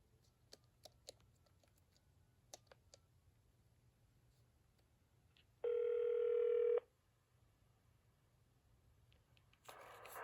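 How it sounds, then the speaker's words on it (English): A Panasonic KX-TG5438F rugged cordless phone dials a number. Faint, scattered key clicks lead into a loud, steady tone lasting about a second, then another tone starts at the end. "let me try to call a different number."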